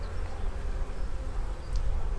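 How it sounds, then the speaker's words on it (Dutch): Black honey bees buzz steadily at an open hive during a spring inspection, a dense, continuous near-field drone with a faint brief whine of a single bee passing close. "Prachtige zwarte bijen."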